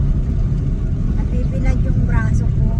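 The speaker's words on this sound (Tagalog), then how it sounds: "Ang ingay na nasa sasakyan, lalo lang bumingay kasi nga naka-ordinary car." Loud, steady engine and road rumble fills the cabin of an ordinary car while driving, with a window that will not work, and a person talks over the drone throughout.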